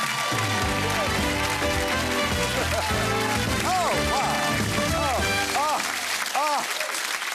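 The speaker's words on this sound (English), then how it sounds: "Your applause has been recorded and will be sent on to less fortunate stars." A television studio audience gives sustained applause for the host of the game show Celebrity Squares, steady and loud for several seconds, with some musical tones ringing over the clapping.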